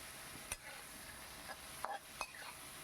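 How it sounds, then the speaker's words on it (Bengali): Prawns fry lightly in a pan while being stirred, a faint low sizzle with a few soft taps and scrapes of a utensil. "একটু হালকা নাড়িয়ে চাড়িয়ে নিচ্ছি চিংড়ি মাছটা হালকা করে আমি ভেজে তুলে রাখবো"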